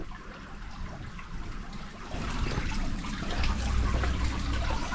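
Waterfall at a Buddhist temple in Nakhon Nayok, Thailand, pouring past a dragon statue: a steady broadband rush of falling water that swells louder midway and keeps on without pause, with no voices.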